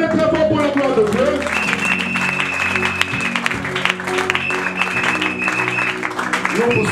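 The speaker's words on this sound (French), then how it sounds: "Est-ce qu'on peut acclamer très fort pour la gloire de Dieu?" A church congregation applauds and cheers loudly and continuously, with dense clapping, shouts and sustained tones from music or voices blending through the whole stretch.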